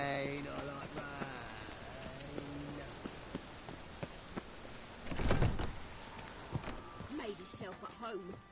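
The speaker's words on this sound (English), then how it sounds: "Rain, I like rain." Steady rain in the video game The Witcher 3: Wild Hunt patters on surfaces while a voice speaks, with a louder splash or thud midway and a quieter stretch after.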